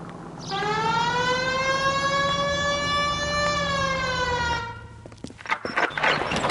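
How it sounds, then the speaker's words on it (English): A police car siren in the video game L.A. Noire blares with a steady, held tone for about four seconds, then cuts off into a few clattering knocks. "Hit the siren."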